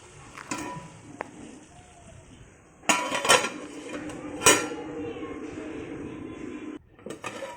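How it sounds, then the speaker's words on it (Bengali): A metal lid set down on a pan of spicy mourola fish curry on a gas stove, giving a couple of sharp clinks and clatters amid kitchen noise and low background hum. "এবার আমি গ্যাসটাকে ডিম করে দেব এবং ঢাকা দিয়ে রাখবো।"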